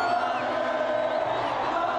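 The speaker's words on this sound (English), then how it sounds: "The Atlas Lions are back, welcomed by a roaring crowd." A roaring crowd welcomes Morocco's national football team, the Atlas Lions, home after the World Cup in Qatar, a dense, steady wash of cheering and shouting voices, loud and continuous throughout.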